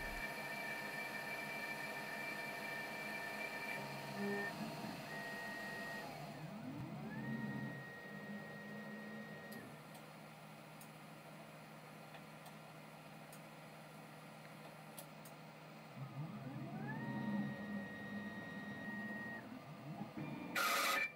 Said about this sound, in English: Here we have the finish pass.